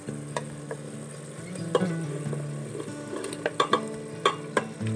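Potatoes dropped into a hot pan for tacos, crackling in a steady sizzle with scattered sharp pops and stirring clicks, close and moderately loud with no talking.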